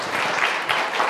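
A room full of people claps for Sanjit at an evening event on ChatGPT and generative AI, a brief, even burst of applause with no voices over it.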